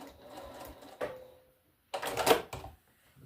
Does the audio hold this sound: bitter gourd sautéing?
no